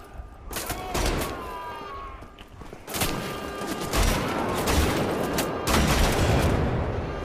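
Heavy rapid gunfire from twin assault rifles or twin shotguns blasting into a crowd of enemies in Wolfenstein: The Old Blood, loud sustained bursts with a brief lull before it resumes.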